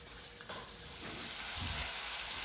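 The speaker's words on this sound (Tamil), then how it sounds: "இப்போ நம்ம சிக்கன் ஃப்ரை பொரிக்க ஆரம்பிச்சிருவோம்" Masala-coated chicken fries steadily in hot oil, a close, continuous frying hiss with occasional stirring.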